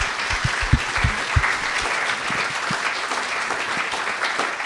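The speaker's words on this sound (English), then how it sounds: "Big round of applause, please." Applause rises from the crowd at a panel discussion, with many hands clapping together in a full, sustained round and a few louder nearby claps standing out early on.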